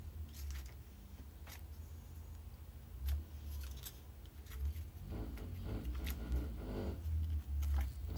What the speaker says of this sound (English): there's a car outside making a lot of noise